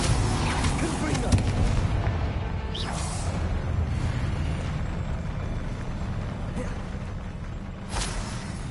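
Confringo fire spell explosions in the video game Hogwarts Legacy, a rumbling, booming blast with whooshing bursts over continuous game noise, loud and dense, with speech also present.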